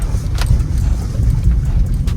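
A car labors over a rough, unpaved mountain road climbing toward a monastery in the Spiti Valley, heard from inside as a steady low engine drone with bumps and rattles.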